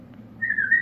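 A clear, steady whistled tone rises in partway through and holds over a faint low background, with no talking.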